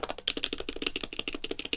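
Rapid, uneven clicking of a computer keyboard with stainless steel parts being typed on up close, each keystroke a crisp tap in a fast, irregular run with a faint tick among the strokes.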